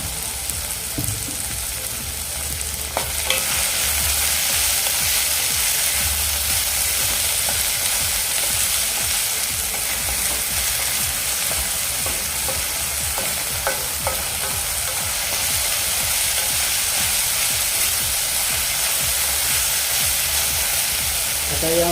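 Tomatoes seasoned with salt sizzle steadily in a pan while cooking for lapashi upma, a constant close frying hiss with occasional stirring scrapes and no pauses.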